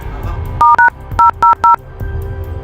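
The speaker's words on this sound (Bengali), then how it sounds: "এলে আমার আইফোন থেকে ফোন লাগা" Dialing tones from an iPhone: a quick series of six short, clean keypad beeps in an uneven rhythm, close and clear over a faint background hum.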